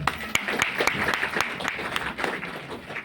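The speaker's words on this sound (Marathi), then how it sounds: "ह्याच्याची जोरदार टाळ्या" An audience claps together at a Marathi talk on jobs and income, a dense run of hand claps spread evenly through the stretch, with a voice faintly mixed in.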